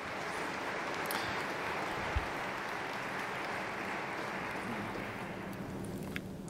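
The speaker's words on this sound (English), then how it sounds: "Applause, please." Steady, dense applause from a conference audience at re:publica 2018, sustained evenly from start to finish at moderate level with no voices breaking through.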